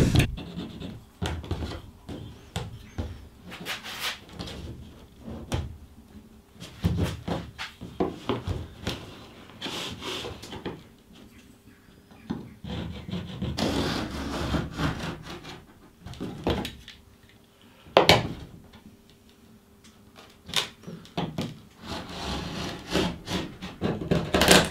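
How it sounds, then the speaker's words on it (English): Fiberglass being scraped and sanded off a damaged cedar strip canoe hull down to bare wood, giving irregular rasping and scratching strokes with short bursts and pauses, close and moderately loud, no talking. "I've just taken the fiberglass off down to the wood so I can see a little bit more easily what I'm doing"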